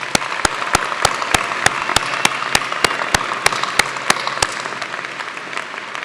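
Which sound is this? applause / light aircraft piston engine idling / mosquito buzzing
applause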